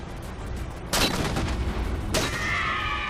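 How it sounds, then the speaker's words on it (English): Two loud sniper rifle shots in Halo 4, each a sharp broadband blast with a ringing tail, spaced about a second apart over steady game ambience. "from down here I can pick off a grunt or two with the sniper"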